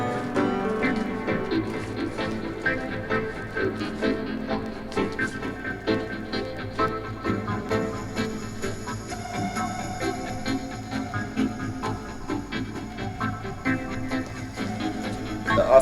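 A steady instrumental reggae rework of Bob Marley and the Wailers' "Exodus" with electronic textures plays continuously at moderate volume, with layered rhythm and a sustained high tone later on.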